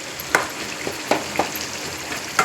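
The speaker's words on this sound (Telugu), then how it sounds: "చూడండి ఫ్రెండ్స్, బాగా మగ్గుతుంది టమోటా." Tomatoes cook in oil in a pan for a mushroom curry, giving a steady close sizzle broken by a few sharp utensil clicks and stirring scrapes.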